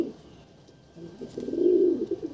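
A pair of pet pigeons coo close by, starting with a faint call and building into a louder, rolling, throaty coo toward the end.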